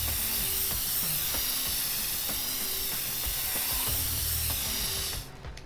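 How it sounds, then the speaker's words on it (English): Steady broadband hiss of a spray can painting in inFamous Second Son, continuous and loud for about five seconds with faint game tones and clicks beneath, cutting off abruptly near the end. "I'm gonna do some spray paint in this episode"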